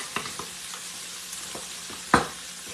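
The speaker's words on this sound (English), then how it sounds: "All right, then I'm gonna stir that in." Fat sizzles in a frying pan while a utensil stirs it, a steady quiet frying hiss under a few light scrapes and one sharper knock near the end, with no talk.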